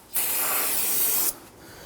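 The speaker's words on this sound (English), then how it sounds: "we're going to go ahead and clean off this unit using some spray solvent" Aerosol solvent cleaner sprays onto the brake master cylinder of a 2006-2014 Honda Ridgeline, one loud, steady hiss lasting about a second before cutting off.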